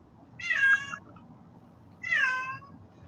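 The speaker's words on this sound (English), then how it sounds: "I don't know if you guys can hear the cat" A cat meows twice indoors, two clear, fairly close calls about a second and a half apart over a faint background hum.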